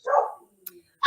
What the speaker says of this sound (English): they're barking at the door